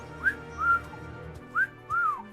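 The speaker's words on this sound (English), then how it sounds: "It's an offensive cat call. He shouldn't be whistling like that" A video game character in Final Fantasy XVI whistles a two-note cat call twice, each a rising then falling pitch, clear and close over a faint background.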